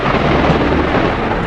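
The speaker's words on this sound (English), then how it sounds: "The storms rolled in from the west, hard, fast and loud." A thunderstorm rolls over a city, a dense, continuous roar of heavy rain and rumbling thunder, loud and close throughout with no break.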